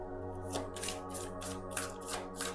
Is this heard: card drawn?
yes